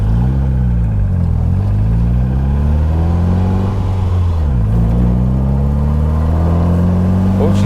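A 1978 MG Midget's engine drones loudly from inside the car as it pulls away, pitch rising and dipping through gear changes, with a voice talking over it.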